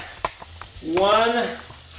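Butter sizzles and crackles softly in a hot pan, with a few light clicks and a brief louder burst of frying.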